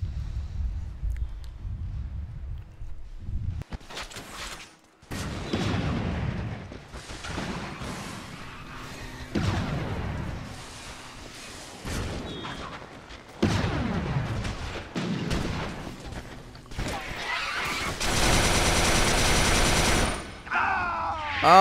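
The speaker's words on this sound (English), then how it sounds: "they're delayed explosions" Rapid gunfire and repeated explosive blasts from a Resistance 3 multiplayer match, dense bursts of shots and booms crowding together at close range, with a few brief gaps and a sustained noisy roar near the end.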